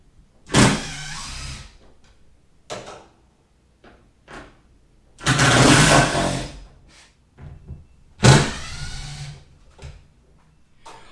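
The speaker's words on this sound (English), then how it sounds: "Torx T27 bit, and that's going to be the bit you use to remove all these screws" A power driver fitted with a Torx T27 bit backs screws out of a Ford Raptor tailgate panel in several short whirring bursts separated by pauses, close by, with no talking.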